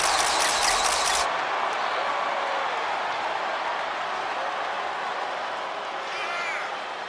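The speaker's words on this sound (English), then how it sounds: "Tiffany Stratton getting a warm welcome from this home crowd." A home arena crowd in the WWE 2K25 video game roars for a wrestler's entrance. A loud burst opens, then a steady broadband wash of crowd noise holds throughout.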